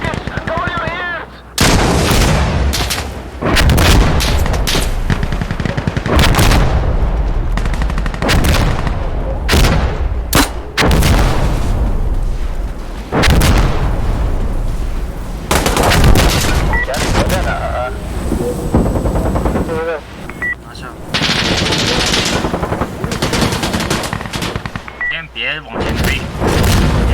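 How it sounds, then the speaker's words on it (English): Dense, continuous gunfire and booming rocket barrage impacts in the Insurgency Sandstorm game, loud and sustained with repeated heavy blasts and bursts of rapid fire, with voices shouting over the combat. "Need a rocket barrage right here! Fire everything you've got! Okay, now fire the rockets."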